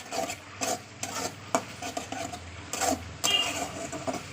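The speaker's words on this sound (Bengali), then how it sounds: "আদা রসুন যে পেস্ট করে সেগুলো সব তেল দিয়ে ভালো করে কষিয়ে নিচ্ছি" Ginger, garlic and onion paste frying in oil in a pan, stirred with a utensil in repeated scraping strokes over a soft sizzle, close and moderately loud, with no talk.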